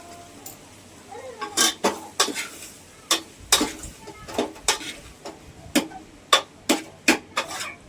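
Pakora batter being stirred by hand in a bowl, a spoon scraping and knocking against the sides in an irregular series of sharp clicks and taps, close and fairly clear with a soft background hum.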